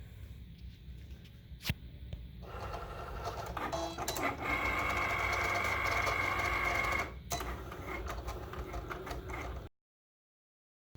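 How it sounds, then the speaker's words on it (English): A Cricut cutting machine working through vinyl gives a steady mechanical whir and buzz of carriage movement, broken by a few clicks and short pauses, loud and close, then stops abruptly into silence. "my Cricut has just finished cutting"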